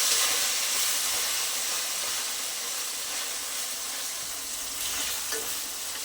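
Chicken pieces frying in hot oil, a loud, steady, dense sizzle and hiss that carries on without a break, close up and with no voices over it.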